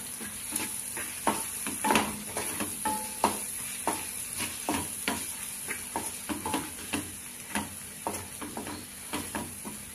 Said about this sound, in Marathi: थोडंसं गरम मसाला, चवीनुसार मीठ टाकून ह्याला चांगलं मिक्स करून घेऊ